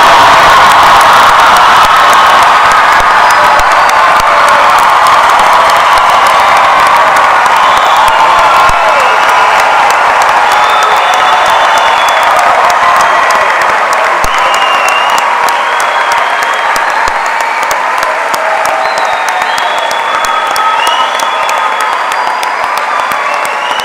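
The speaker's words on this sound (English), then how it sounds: "Ladies and gentlemen, please join me in applauding the newest Phillipsburg" A large crowd applauds and cheers continuously for a newly graduated high school class at a graduation ceremony, loud and sustained with scattered whoops throughout.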